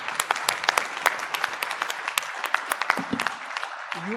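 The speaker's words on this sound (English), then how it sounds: "If I can also request all of you to give a round of applause to the panelists." Audience applause for a panel of speakers at an industry technology event, scattered claps ringing out over about four seconds, thinning toward the end with a brief voice at the close.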